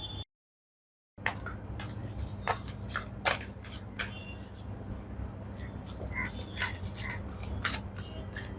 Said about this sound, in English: Let us first shuffle and get your cards out